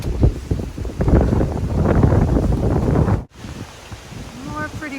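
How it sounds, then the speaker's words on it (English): Wind gusting across a hiking trail, loud rumbling buffeting against the microphone that drops off abruptly, then lighter wind with a voice speaking. "The wind is picking up again."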